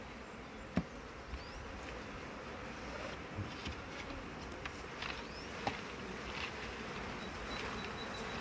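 Honey bees buzz around a hive during an early summer harvest as they are gently brushed off the frames, a soft continuous drone with a few brief louder passes close by and no talking.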